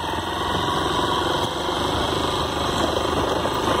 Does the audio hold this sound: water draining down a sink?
no